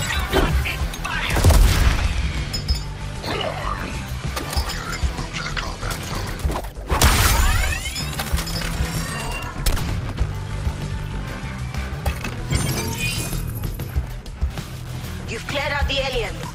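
Gunfire and heavy booms in Suicide Squad: Kill the Justice League, loud bursts of shots and explosive crashes recurring through a chaotic battle mix, with game voices talking over much of it.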